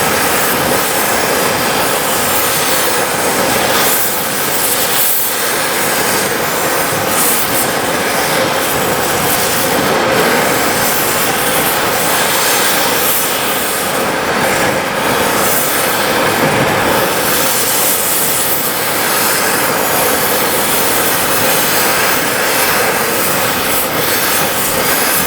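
A torch roars steadily and loudly at close range, heating a rubber suspension bushing on a Subaru so the bolt can be spun out, a continuous broadband hiss with no pauses.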